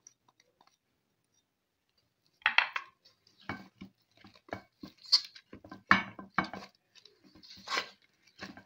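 A spoon scrapes and clinks against a pan while ingredients are stirred into melted jaggery for besan laddoos, with irregular taps and scrapes that start after a quiet opening and continue close-up in short bursts.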